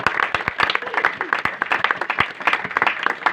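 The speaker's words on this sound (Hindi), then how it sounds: "एक बार जोरदार तालियां।" Loud, dense applause from a church congregation, many hands clapping steadily throughout with sharp individual claps standing out.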